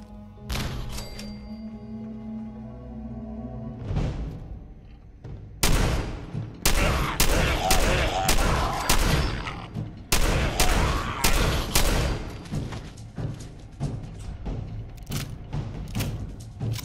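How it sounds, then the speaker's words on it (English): An orange grenade explodes in a Fallout video game amid combat, with a sharp blast followed by a rapid series of loud gunshot-like bangs and thuds over a low background drone. "Okay, that orange grenade killed one."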